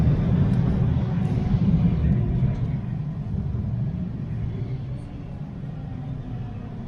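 Steady low rumble of a Toronto TTC subway train riding between stations, a loud continuous drone from inside the car that eases slightly over time, with a faint voice in the background.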